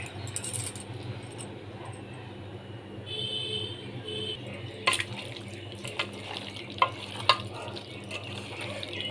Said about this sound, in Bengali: তেল গরম হয়ে গেছে, তেলের মধ্যে আমি আলুগুলো ভেজে নিচ্ছি